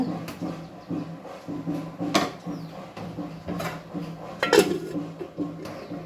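A cooking pot of country chicken curry is covered with its lid, giving a few metallic clinks and knocks against a quiet kitchen background, with sharper hits near the middle and the end.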